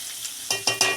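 Onion sizzles softly in hot oil while cooking for a chavli bean-pod vegetable, with three quick close scrapes of a spatula stirring the pan near the end.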